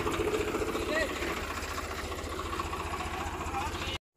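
A motorbike engine idles nearby on a village offroad outing, a steady low throbbing chug under a noisy wash, then cuts off abruptly near the end.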